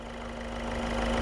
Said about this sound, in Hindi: इंजन का आवाज भी बहुत बेहतरीन हो गया, अच्छा हो गया।